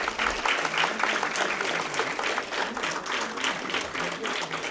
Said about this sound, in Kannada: ಹಾಗಾದರೆ ಭರ್ಜರಿ ಚಪ್ಪಾಳೆ ಮುಗಿಲು ಮುಟ್ಟಬೇಕು ಅಂತ ಕೇಳ್ಕೊತೀನಿ